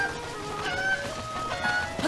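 Cucco chickens clucking in the video game Zelda: Breath of the Wild, a couple of short bird-like calls standing out over steady game music and ambience, with no talk.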